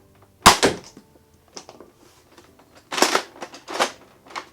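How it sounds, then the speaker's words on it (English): Nerf Mega Thunderhawk blaster firing a Mega dart: one sharp, loud pop, then small plastic clicks and later a few rougher bursts of priming and handling noise. "we can fire off a dart here"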